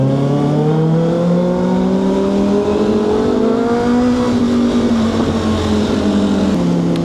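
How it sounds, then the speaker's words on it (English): Steady engine drone with gradually shifting pitch while riding a ZX6R motorcycle through road traffic, loud and continuous throughout with no talk. "This traffic is brutal."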